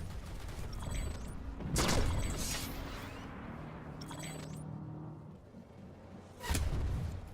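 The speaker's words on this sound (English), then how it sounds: "that was the sound of somebody counter sniping us" Loud sharp sniper rifle shots from the video game Planetside 2, two or three spaced apart, each with a rolling echo over a steady ambient hum.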